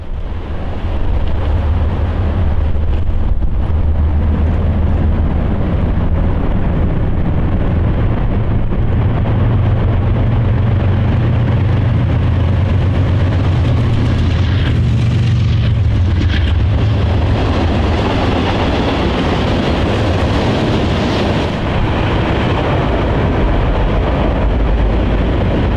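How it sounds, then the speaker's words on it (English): A southbound manifest freight train led by three GE locomotives rolls past at close range, a loud, steady low rumble of engines and wagons filling the whole stretch, with wind buffeting the microphone. "The next train we caught at Evington was a southbound manifest led by 3 GEs."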